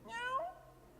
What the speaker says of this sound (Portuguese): Eu falei, será que é o gatinho?